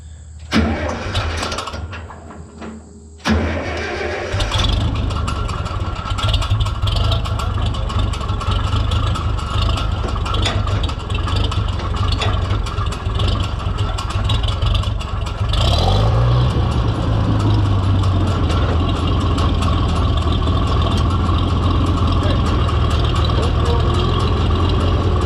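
An Allis Chalmers 442 tractor engine cranks with a few sputters, catches, then settles into a steady, loud, close rumbling idle that holds for the rest of the stretch, with a brief rev partway through.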